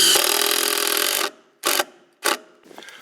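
A power driver whirs steadily for a second while backing a screw out of wooden roof decking on a ferrocement house, followed by two short bursts and a faint scrape, close and loud with no talking.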